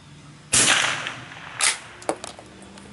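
A Browning T-Bolt Maple .22 LR rifle fires a few sharp, close cracks spaced about a second apart, each with a short fading tail, with no talking.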